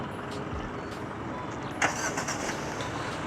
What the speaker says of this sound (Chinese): 这引擎就会打着了的，所以它这辆车是有 Remote Start